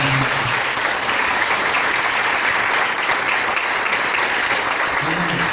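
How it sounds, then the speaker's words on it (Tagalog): A church congregation applauding loudly during a sermon, a full, sustained burst of clapping from many hands, with faint voices near the start and end. "pumalakpak na malakas"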